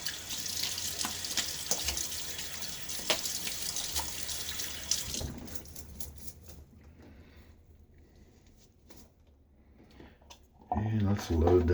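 Tap water runs steadily into a sink to rinse a stainless steel safety razor with a Feather blade, a broad hiss for about five seconds that drops to faint drips, then a louder splash near the end.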